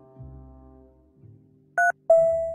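Electronic phone keypad tones in the spy puzzle game Agent A: a short two-tone button beep, then a longer steady tone after a brief gap, over faint low background hum.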